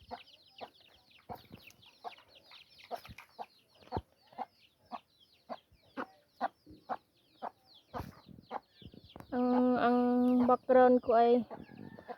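Native chickens on a provincial yard cluck in repeated short bursts nearby, with a louder sustained call near the end, while a person talks over them.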